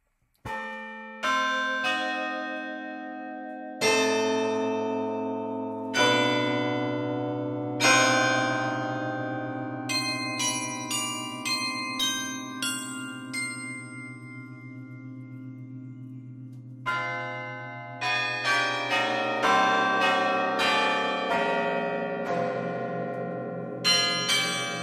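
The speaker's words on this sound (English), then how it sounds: "Let's hear the bell tower, actually." A sampled bell tower from the ProjectSam Lumina 2.0 library rings out in a series of struck bells, slow single strikes at first and then quicker clustered peals, each tone ringing on and fading.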